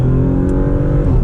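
A 2023 Porsche Macan S with a turbocharged engine pulls hard under acceleration, giving a loud, steady, low engine roar heard from inside the cabin with no talk.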